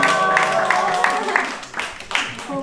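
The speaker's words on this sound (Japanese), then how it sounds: "卒業なので皆さん拍手を" A studio audience claps for a girl's high school graduation, a short burst of clapping mixed with talking and tonal background sound, fading toward the end.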